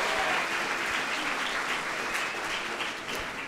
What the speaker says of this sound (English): Let's give all these players a round of applause.